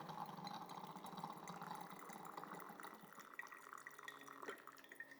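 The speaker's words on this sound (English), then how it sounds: "It's gonna dispense some water, and we're pre-wetting our V60 filter here." An X-Bloom Studio coffee machine dispenses water onto a V60 paper filter, giving a soft, continuous trickle and patter of liquid, faint and close, with small drips throughout.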